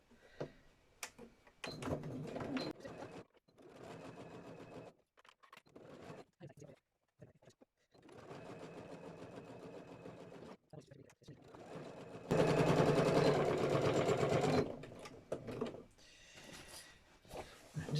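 A sewing machine stitches fabric in several short, stop-start runs of fast mechanical chatter, close by, with pauses, handling clicks and a stretch of louder steady running, while someone speaks at times.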